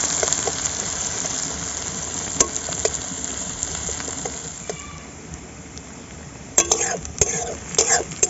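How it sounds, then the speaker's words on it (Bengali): Chopped onions frying lightly in a pan for chicken curry, a steady close sizzle with occasional clinks and stirring scrapes from a utensil. "পেঁয়াজটা আমি হালকা করে ভেজে নেব।"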